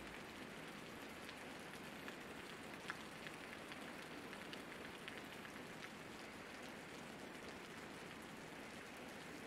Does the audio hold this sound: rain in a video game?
yes